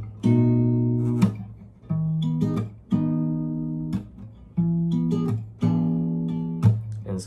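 Guitar chords for a song ring out one by one, six or seven plucked and strummed chords each sustained about a second with short pauses between, close and clear with no talking.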